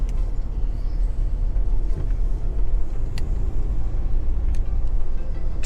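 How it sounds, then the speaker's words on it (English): Rush-hour road traffic near Nashville drones steadily around a moving car, a continuous low rumble of tires and engines with occasional faint knocks. "Traffic."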